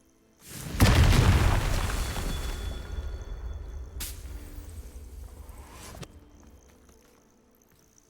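A Confringo spell explosion in the video game Hogwarts Legacy lands as a loud, deep boom with a burst of debris, then a second crack follows midway and a long rumbling tail slowly fades out.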